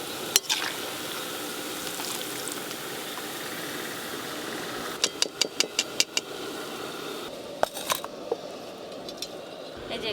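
Onions sizzle steadily in a hot pan of oil while being fried to a deep red-brown for mutton biryani, a broad continuous crackle with a run of sharp clinks and scrapes partway through.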